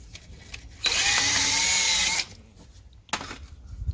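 A power drill whirs loudly for just over a second, high and steady, cleaning a brake caliper spring on a 2006 Porsche Cayenne, then stops, followed by light clicks and handling noise.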